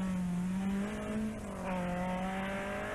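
A Manta rally car racing along a Glendon stage in the 1986 British Open Rally Championship, its engine a steady, fairly distant drone rising and falling in pitch as it passes through wet weather.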